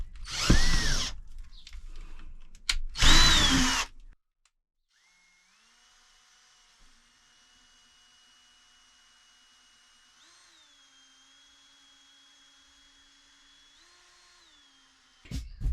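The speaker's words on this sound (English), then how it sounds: "I'm just going to drill it into the metal using, my dad's let me borrow his more powerful drill" A powerful power drill drives screws into the metal of a Fiat Scudo campervan, two loud close bursts of whirring at the start and a brief start at the end, with a faint steady hum in between; no talking.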